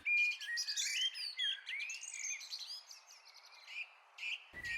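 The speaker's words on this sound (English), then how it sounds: "The birds are very busy with nest building and spoiling us with morning chorus." Several songbirds chirp and whistle in a busy spring morning chorus while nest building, with overlapping calls and trills that are fairly close and continuous, and no voices.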